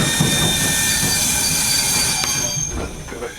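A train running on a heritage line rolls along with steady rail rumble and a high metallic squeal of wheels or brakes, ending with a few knocks and clunks as it slows; no talk.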